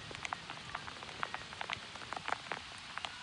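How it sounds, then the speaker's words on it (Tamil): Hail falling with rain during a hailstorm, heard as scattered sharp ticks and patters of stones and drops striking nearby surfaces over a steady wash of rain, with no talk. "மழையோட சேர்ந்து இந்த கல்லு மாதிரி பெய்யுது பாருங்க."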